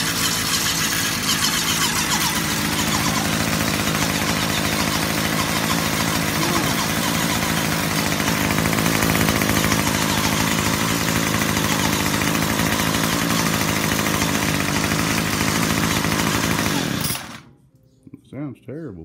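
A 2019 Hyper Tough H2520 gas string trimmer, left sitting three years with fuel in the tank, runs loud and continuously close by, then cuts out abruptly near the end, followed by a few faint sputters.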